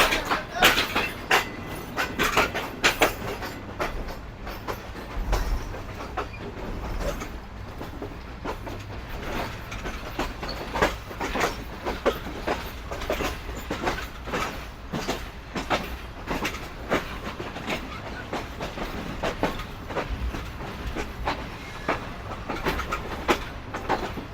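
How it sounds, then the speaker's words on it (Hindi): Pak Business Express train hauled by a GU40 locomotive, running on rails out of Kotri Junction toward the Mehran bridge over the Indus, with continuous rhythmic clickety-clack of wheels over rail joints heard from inside, steady and moderately loud. "तो ये ट्रेन अब हमारी दरिया सिंध के ऊपर बने हुए मेहरान ब्रिज की तरफ बढ़ रही है।"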